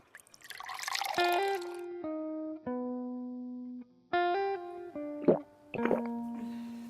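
A comic drinking sound effect for someone gulping water: a run of stepped, tuned glugging tones broken by wet plops. It comes in several loud bursts with no talking.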